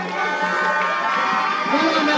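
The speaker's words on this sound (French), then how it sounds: "On applaudit s'il vous plaît." A crowd at a tournament closing ceremony cheers and applauds in a dense, steady roar of clapping and shouting that continues throughout.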